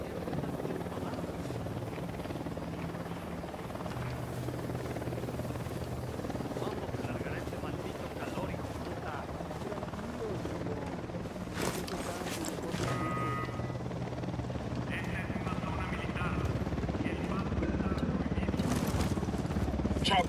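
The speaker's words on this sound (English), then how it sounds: "Chopper, hit the dirt." Enemy helicopter in the stealth video game Pure Stealth, a steady droning rotor hum running throughout and growing slightly louder toward the end, with brief clatters and game effects over it.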